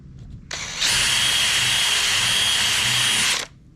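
A drill bit bores out a bolt on a Dodge Neon SRT 300 bumper, a loud, steady high-pitched whine held for about three seconds after a short lower spin-up, with no talk over it.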